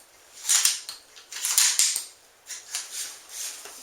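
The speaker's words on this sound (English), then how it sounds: "push this little tang down. Get them shells to pop out." Shotgun shells pop out of a jammed Mossberg 500 pump shotgun as a series of sharp, close metallic clicks and clatters in quick, uneven bursts, with short quiet gaps between them.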